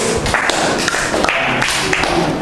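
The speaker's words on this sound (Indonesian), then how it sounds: "Beri tepuk tangan untuk kelompok 1." A classroom of students claps for a presenting group, loud and close, a dense steady patter of many hands lasting throughout without pause.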